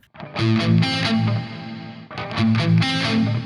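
Two short phrases of distorted electric guitar chords ring out, each washed in reverb with a trailing delay.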